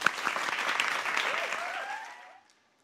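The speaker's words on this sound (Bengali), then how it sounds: "রাগিবের জন্য একটা হাততালি।" A studio audience at a reality talent show claps in a burst of loud, dense applause that swells briefly and then fades out completely after about two and a half seconds, with faint voices underneath.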